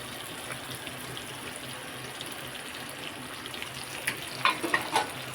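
Chopped ginger and garlic fry in hot oil for a beef pickle, a soft, even sizzle throughout, with a few brighter crackles and pops near the end.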